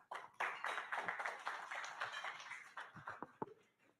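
Audience applause at an adolescent financial literacy forum: dense, steady clapping from many hands, fairly faint and distant, thinning into a few scattered claps toward the end.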